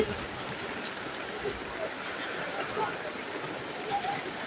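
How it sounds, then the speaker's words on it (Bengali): Heavy rain falls at a market as a steady, even hiss of drops that fills the background without a break. "অনেক বৃষ্টি,"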